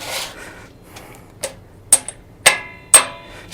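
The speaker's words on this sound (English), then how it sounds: "I am going to center punch all of these" Hammer strikes on a center punch marking metal parts for a ribbon burner forge, five or so sharp, close metallic taps spaced about half a second apart with quiet gaps between.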